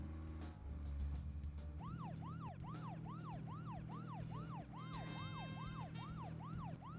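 Police and ambulance sirens wail in a rising and falling pattern during Deadly Premonition, a steady loop of repeated sweeps over a low engine rumble, loud and continuous throughout.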